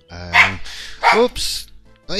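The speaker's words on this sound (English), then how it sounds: "My long-term viewers will know all about my dog's barking" A pet dog barks in a few sharp, loud bursts close by, with a person briefly calling out between the barks.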